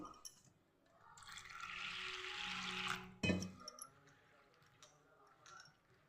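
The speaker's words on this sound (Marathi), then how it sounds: "यामधलं आपण पाणी आता पातळ्यात काढून घेऊ पूर्ण आणि आणखी एक दोन पाण्याने याला स्वच्छ धुवून घेऊ" Soaked moth beans drained of their water into a vessel, a steady pour of liquid running for a couple of seconds, then a sharper splash and a few faint clinks of the container as the flow tapers off.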